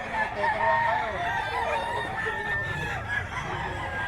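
A young bull stag rooster crows loudly at the Bocaue pet market, its drawn-out harmonic call rising over the clucking of other fowl and general market bustle.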